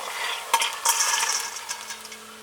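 Crisp fried edible gum for dry fruit laddu is moved from a pan into a vessel, with close scraping, light clinks of a spoon on metal, and a soft rustling crackle of the pieces.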